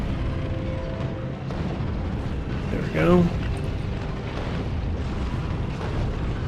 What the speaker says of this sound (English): the cannon shells keep hitting something in the way.